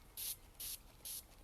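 Three short hissing bursts from a spray bottle misting a water, oil and essential oil blend onto dry bath bomb mix, evenly spaced and close, with quiet pauses between.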